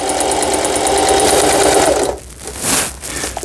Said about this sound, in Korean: 노루발 밑에 직선 바느질이 되겠습니다